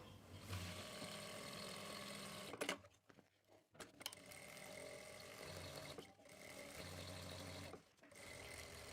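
A sewing machine stitching a salwar runs in a soft, steady mechanical whir, pausing briefly a few times with small clicks and handling noises between runs.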